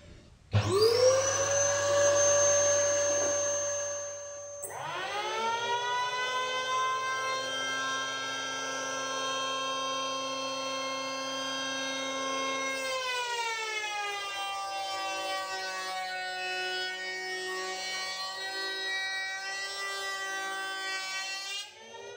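A homemade wood thickness planer spins up with a rising motor whine, then runs steadily as a workpiece is fed through, its pitch dropping as the blades cut, loud and close with no talk.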